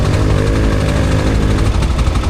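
A loud, close ATV quad bike engine runs steadily with a rough, throbbing low rumble in a swamp, alone with no voices.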